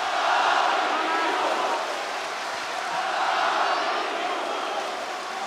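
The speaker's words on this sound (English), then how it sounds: "The crowd letting their emotions know as well." A big arena crowd at an OKTAGON MMA fight event gives off a sustained roar of cheering and shouting that stays loud and dense throughout, with no breaks.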